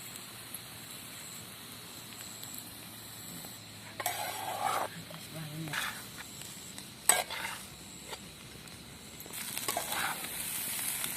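Egg bhurji with onions being stirred in a pan, with faint sizzling and intermittent spatula scrapes and clinks against the pan, spaced irregularly, no talk.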